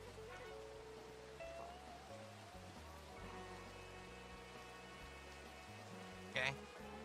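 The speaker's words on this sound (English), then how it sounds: "Oh, it's raining! It's raining!" Rain falling in Minecraft, a soft, steady hiss of drops running faintly throughout, mixed with game music tones and a brief louder burst near the end.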